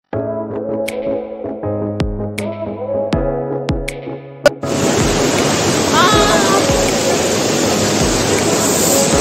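Cold, clear river water rushes loudly and steadily in Manali, a broad continuous roar that starts abruptly partway through after a quieter stretch with a voice and some tonal sounds.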